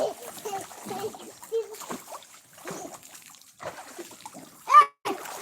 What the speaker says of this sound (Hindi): हाँ पानी को लो जल्दी, नया नया पानी भरते जाओ, नहाते जाओ।